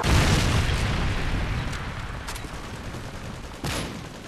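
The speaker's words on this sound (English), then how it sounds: "Predator missile inbound." A heavy explosion from a Predator missile strike in a first-person shooter video game, a loud close boom rolling into a long rumbling decay with a second smaller blast near the end.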